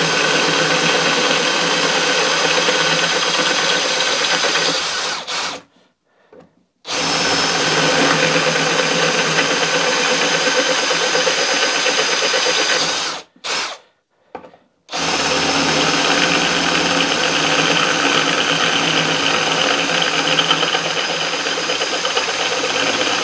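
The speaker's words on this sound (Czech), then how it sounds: "Tak viděli jste, co to všechno zvládne, tady tenhle ten akuvrtací šroubovák, je to teda s označením PARKSIDE PERFORMANCE PPBSA 20 LÍBÍ 1." A Parkside Performance PPBSA 20-Li A1 cordless drill driver whirs loud and close in long continuous runs, stopping twice for short pauses before starting up again.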